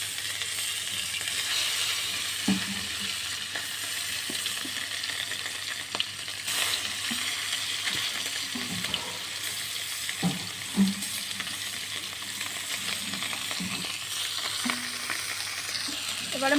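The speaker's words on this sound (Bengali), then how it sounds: "এবারে কড়াইতে মাছ দিয়ে দেব।" Taki fish rubbed with salt and turmeric fries in a kadai with a continuous close sizzle, joined by occasional soft knocks and scrapes of a spatula, with no talking.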